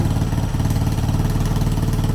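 A 2000 Honda XR200R dirt bike engine idles close by after a rebuild, a steady, even putter with a faint rattling clatter that holds constant throughout.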